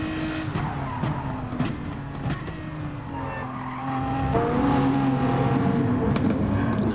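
A race car in a sim racing game at Lago Maggiore, engine droning steadily, then louder with tire scrub and skidding as it slides off track, with no talk.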